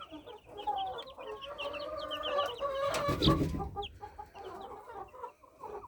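A sick young chick peeps and cheeps repeatedly, with a cluck and a short burst of noise in the middle, close by and fairly quiet.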